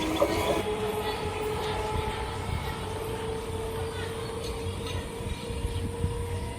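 A train at Somrabazar railway station on the Bandel–Katwa line rumbles close by, with a low steady roll, faint wheel clatter and a thin squealing tone running through, while a voice murmurs faintly underneath.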